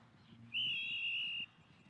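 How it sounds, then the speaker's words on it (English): A referee's whistle sounds at a football match between Abu Dhabi and Anningsley Park: one sharp, loud blast of just under a second that stands out clearly above a low murmur of crowd and field noise. "the first whistle of the match"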